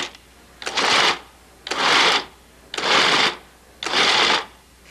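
A Cuisinart food processor pulses chocolate chip cookie dough in four even, loud bursts of motor whir, each about half a second, separated by short pauses, close and alone.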